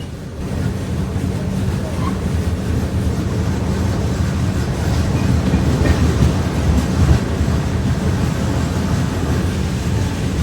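The Swarnajayanthi Superfast Express rumbles steadily along the track, a continuous loud roar of wheels and carriages with faint clickety-clack, heard from inside the moving train without a break.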